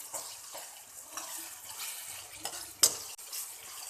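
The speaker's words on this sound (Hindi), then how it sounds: "ज़ीरे की और टमाटर की अच्छी तरह हम भुनाई करेंगे, इसको अच्छी तरह सॉफ्ट करेंगे" Chopped tomatoes and cumin frying in a pan while a spoon stirs them, a soft steady sizzle with scraping strokes and one sharp clink, quiet and without talk.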